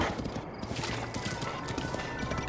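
Rhythmic hoofbeats of a horse trotting in The Legend of Zelda: Breath of the Wild, moderately loud over steady game ambience and music.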